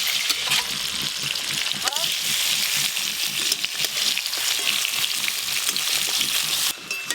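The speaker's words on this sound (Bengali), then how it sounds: "ভালো করে আলু পটল ভেজে নিয়েছি" Potatoes and pointed gourd frying in oil make a loud, continuous close-up sizzle with crackling bubbles, while faint voices murmur in the background.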